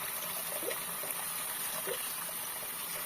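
Water running over an orchid plant as it is washed, a steady broadband rush with faint splashes, constant and moderately quiet throughout.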